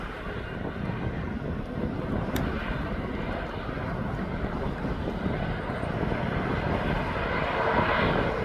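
An airplane rolls onto the runway at East Midlands Airport, its engine making a steady, fairly loud broadband roar that swells slightly toward the end, with some wind rumble on the microphone.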